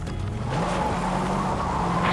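A car in Fortnite Zero Builds drives up with a steady engine drone that builds slightly over two seconds, close by and with no one talking.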